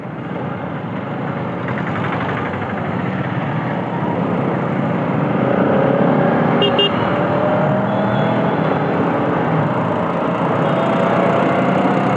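Bajaj Pulsar RS 200 motorcycle engine heard while riding in city traffic, a continuous loud drone mixed with strong wind rush and a brief horn toot.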